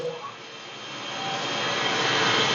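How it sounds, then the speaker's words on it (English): AnnnYang universal lathe spindle motor starting up and running, a steady broadband whir that grows gradually louder over a couple of seconds, with no talking. "And then you press the spindle start."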